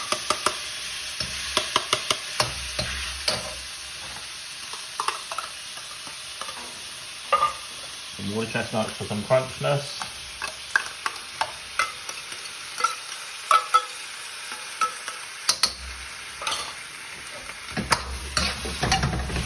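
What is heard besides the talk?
chicken, bamboo shoots, water chestnuts sizzling in pan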